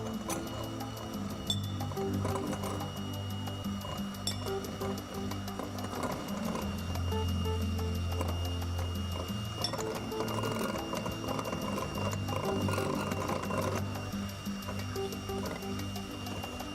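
An electric mixer hums steadily and mechanically while it whisks icing sugar and lemon juice into soft peaks, continuous and close, with no voices.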